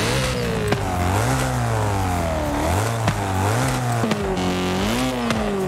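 A BMW M4 G82 with a swapped 4.0 V8 in Forza Horizon 5 revs repeatedly, its exhaust note rising and falling in several loud pulls with crackles between, no talk.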